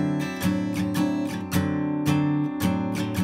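Jazz chords strummed on a guitar ring out fully with no left-hand muting, so each strum sustains into the next in a steady rhythm. The playing is close and clear, with no talking.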